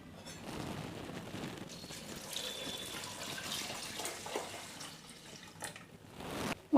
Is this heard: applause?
no